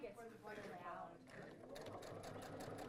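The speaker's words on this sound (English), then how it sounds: "Woo, okay, I'm sewing." A sewing machine stitches quilt blocks in a steady, continuous mechanical whir close by, with people talking over it.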